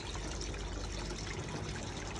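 Water trickles steadily through a bog filter for a small patio pond, making a faint, continuous splashing wash with no pauses.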